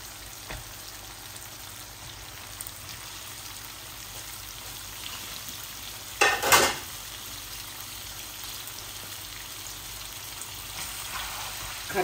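Chicken and potatoes fry in an aluminium pan with a steady, soft sizzle and spatter throughout, and a brief louder burst of crackling midway, probably as potatoes are added.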